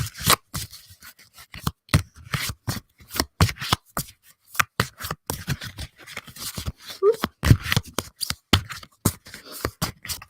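Cards being shuffled for a tarot-style card reading, a close, uneven run of sharp riffling slaps and soft rustles continuing throughout, with no talking.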